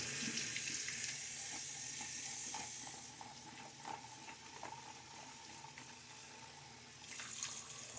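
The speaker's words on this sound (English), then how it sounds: "let's do the splash while the bowl fills up with water" Tap water runs steadily into a shaving bowl, a continuous splashing hiss that eases slightly partway through and swells again near the end, close and alone with no talk.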